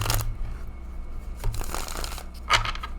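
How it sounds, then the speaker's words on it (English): Laminated, gloss-coated tarot deck being shuffled by hand, giving close, crisp riffling bursts and slippery card flicks in quick succession, with no speech. "It does shuffle fantastically."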